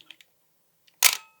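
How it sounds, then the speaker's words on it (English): A Cosina CT1A film camera fires its shutter once, a loud sharp mechanical clack with a short metallic tail, preceded by a few faint small clicks in an otherwise quiet room. "It's the Cosina CT1A. I mean, for the money you pay for these cameras, it's really good. The shutter is pretty loud."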